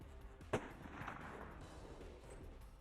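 A single sharp rifle shot rings out during a Kodiak brown bear hunt, an abrupt loud crack over quiet outdoor background.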